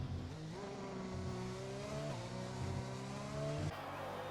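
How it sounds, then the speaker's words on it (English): A race car engine screams through a flying lap at the Spanish GP in an Xbox racing game, holding a loud, steady high-revving drone with rising pitch sweeps and abrupt drops at gear changes. "So Hobgoblin about to start his flying lap"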